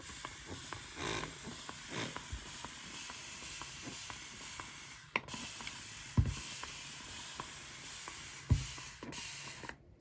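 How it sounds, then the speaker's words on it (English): Water sprayed from a hand sprayer onto soil covering freshly planted dill seeds, a steady soft hiss broken by short clicks and squirts, fairly close and without talk. "spray some water on top"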